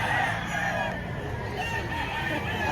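A rooster of the Alimbuyugin breed at a busy chicken market in Lipa, Batangas, with steady crowing and clucking from many fowl mixed into a continuous dense crowd background.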